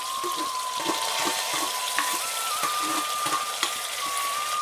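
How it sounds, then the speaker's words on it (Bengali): Onion, bay leaf and chili paste frying in hot oil in a wok, a steady loud sizzle with a faint high whine running underneath and occasional soft clinks. "তেল গরম হয়ে গেছে, পেঁয়াজটা দিয়ে দিলাম, তেজপাতা দিয়ে দিলাম, লঙ্কা বাটাটা দিয়ে দিলাম"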